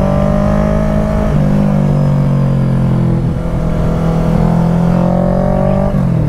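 A Honda CBR 650R motorcycle fitted with an Austin Racing exhaust revs hard, its engine note climbing and holding at high pitch in loud, close, sustained pulls with brief dips between.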